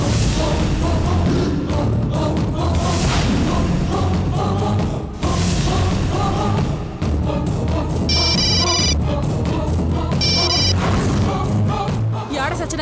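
A telephone rings while a call is placed in a Telugu TV serial scene, repeated electronic ringtone bursts over steady dramatic background music.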